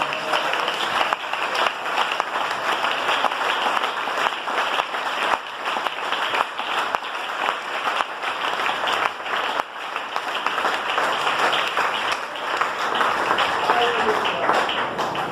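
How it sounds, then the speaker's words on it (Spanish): A church congregation applauds loudly and continuously during a sermon, a dense wash of clapping that holds steady throughout. "Eso es para darle un aplauso al Señor."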